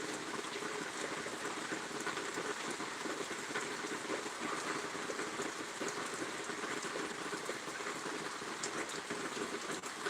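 Rain falls steadily during a storm, a soft continuous patter with occasional sharper drops, fairly quiet and unbroken by talk.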